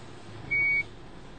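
A single short electronic beep from the controls of an autonomous VW Golf GTI, a clear steady tone lasting about a third of a second over a low background rumble.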